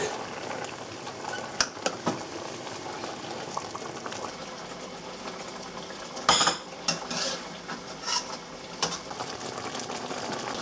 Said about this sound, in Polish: Nalewam skrobek kukurydzianą z wodą do chochli. Bam. Będziemy zagęszczać. I zagęszczamy szybko sosik.